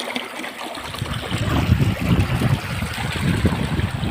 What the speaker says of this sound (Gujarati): તુવેરમાં પાણી ચાલુ હતું.